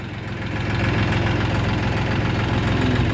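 A YTO 244SX tractor engine runs steadily and close, a loud, even diesel idle-like thrum with a rapid knocking pulse and vibration, no voices over it.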